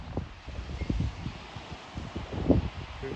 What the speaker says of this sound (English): Sunny and very breezy.